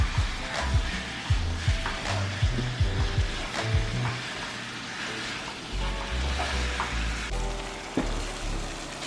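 Seasoned ground beef frying in a pan, a dense continuous sizzle close up with scattered clicks and knocks from stirring, no voices.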